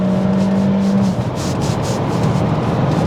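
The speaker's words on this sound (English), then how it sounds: "Nice screamy little engine." A 2021 Kia Seltos's small engine revs hard, its whine rising through a high-speed run, with wind and road roar around it and no voices.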